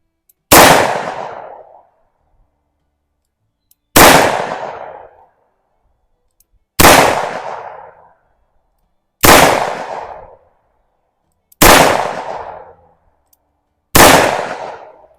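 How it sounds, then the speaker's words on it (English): Six loud, sharp gunshots from a Smith & Wesson 66-1 .357 Magnum revolver fired double action at a range, spaced evenly a few seconds apart, each a crisp crack with a short decaying tail. "let's go ahead and shoot this whole thing double action"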